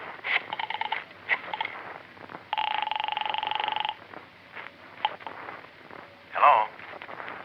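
A telephone being dialed in an old-time radio detective drama, with short clicks and a sustained dial tone or ringing burst lasting over a second, surrounded by brief, close-miked spoken exchanges.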